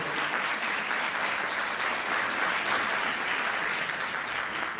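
An audience at a Yunus Emre poetry night applauds in a dense, steady wash of clapping that holds for several seconds at a moderate distance.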